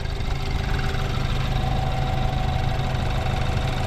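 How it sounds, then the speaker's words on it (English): A 2014 BMW 328i xDrive with a twin-turbo engine idles nearby, producing a steady, even, moderately quiet hum with a faint ticking texture and no change in pace. "And that twin turbo sounded good"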